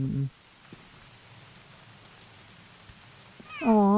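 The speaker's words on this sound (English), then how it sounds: "There's a kitty." Near the end of a quiet stretch in the video game Book of Travels, a cat gives one short, clear meow. Faint ambient rustling precedes it.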